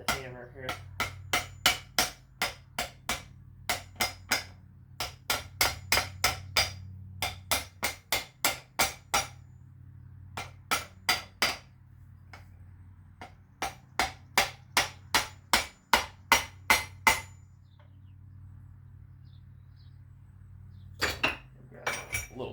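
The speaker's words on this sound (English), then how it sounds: "I'll use the butt end of the hammer here." Sharp metallic taps from the butt end of a hammer on a Ford Model T rear axle, in quick bursts of several strikes each, separated by short pauses, ringing close and clear over a low steady hum.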